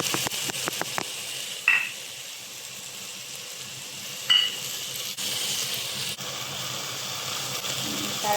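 Fried fish roe with spices being stirred in a pan, a soft continuous sizzle with a few brief scraping knocks of the utensil, close and fairly quiet.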